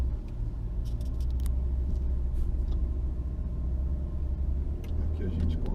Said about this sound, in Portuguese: E aqui nós temos um aclive de 40 graus de inclinação